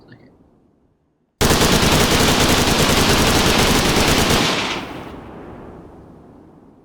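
Gunfire erupts in the video game Redwave 2 after a near-silent pause, a loud, rapid, continuous machine-gun burst lasting about three seconds that then fades into a rumbling tail.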